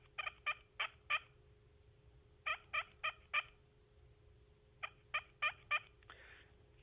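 A push-button turkey call imitates a hen's tree yelp, sounding in three clear groups of four to five soft, rhythmic yelps separated by pauses, close and alone.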